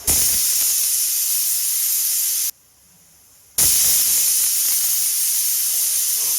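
A pressure cooker whistle vents steam in a loud, continuous hiss, drops out for about a second, then resumes at full force.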